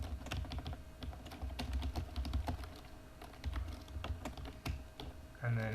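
Rapid typing on a computer keyboard, with dense clicking keystrokes in quick uneven bursts, close and clear, ending in a brief thump.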